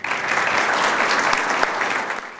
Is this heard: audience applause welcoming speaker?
yes